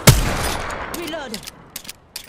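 Gunfire in the Apex Legends video game at close range, likely a repeater rifle: one loud sharp blast at the start, then scattered quieter shots and impacts, with faint game voice lines in between.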